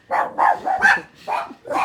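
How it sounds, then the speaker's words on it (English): Dogs bark excitedly in a burst of five quick, close, loud woofs with short gaps between them. "The dogs are going nuts."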